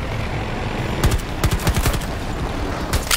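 Rapid bursts of close, loud gunfire from a medic's gun in the video game Battlefield 2042, with several quick volleys packed together over a low background rumble.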